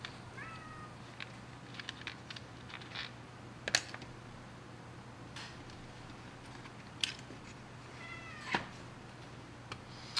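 A cat shut in a box meows twice, once near the start and again near the end, fairly faint and short, over a steady fan hum in an indoor workshop.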